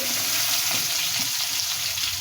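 Green chillies and onion frying in coconut oil in a pan for a bitter gourd curry, a steady bright sizzle at close range with soft stirring underneath, no voices.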